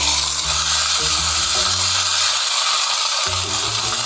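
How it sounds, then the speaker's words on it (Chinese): A tomahawk steak sears in an electric pot as its fat renders out, giving a continuous bright sizzle. Steady tonal sounds run beneath the sizzle, and there is no talk. "我们只能用这电锅来煎。 哇塞，把那点油脂全部给它煎出来"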